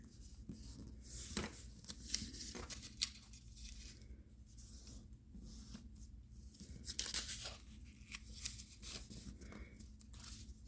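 A sheet of paper being folded and creased by hand, quiet and close, with intermittent crinkles, rustles and sharper crunchy creasing bursts scattered irregularly throughout.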